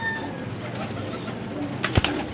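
Pigeons of mixed blue and checkered breeds cooing softly in a loft, a low continuous murmur of coos with a brief flutter near the end, fairly quiet.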